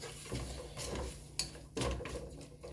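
A spoon stirs paprika into a stew in a cooking pot, giving soft scrapes and clinks against the metal in a few short bursts, close by and fairly quiet, with no talking.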